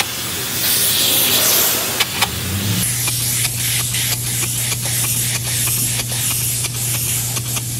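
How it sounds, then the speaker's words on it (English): Steady, loud hiss of spray foam being applied to a tiny house trailer, broken by short bursts, with a low engine hum droning continuously underneath. "a little info about the spray foam that we're doing currently"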